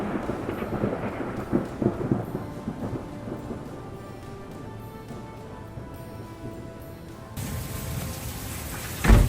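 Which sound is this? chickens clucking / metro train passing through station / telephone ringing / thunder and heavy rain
thunder and heavy rain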